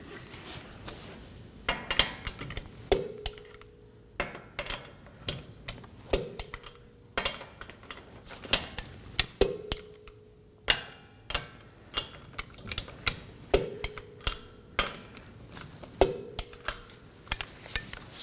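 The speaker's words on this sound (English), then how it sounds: "We're going to torque these down to 76 foot-pounds in an alternating pattern." Ratcheting clicks of a torque wrench tightening the hub bolts on a 2020 Toyota Corolla's front wheel, coming in repeated short bursts with brief metallic taps between them and no talking.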